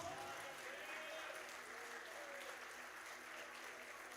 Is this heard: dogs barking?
no